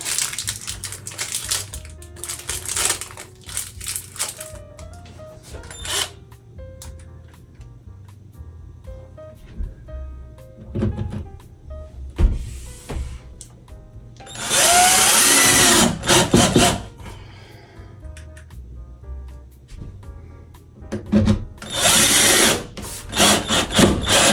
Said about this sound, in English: I am screwing one in each of these shelf holes to attach both of these together